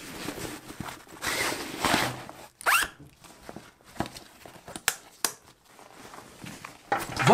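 A zipper being opened on a camera bag's fastening to add a second storage compartment, heard as several quick rasping pulls and short bursts, close and fairly loud, with no talking.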